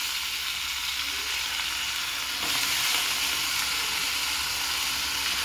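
Bitter gourd with onions and a pinch of turmeric frying in a pan, a loud, continuous close sizzle with a brief surge partway through.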